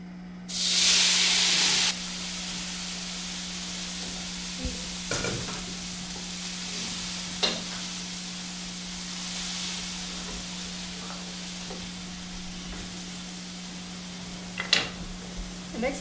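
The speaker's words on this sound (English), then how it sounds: "Next is to saute the vegetable." Vegetables saute in hot vegetable oil, a soft continuous sizzle with occasional stirring clicks and scrapes, opening with a brief louder hiss, under a constant low electrical hum.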